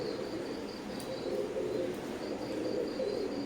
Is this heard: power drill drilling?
no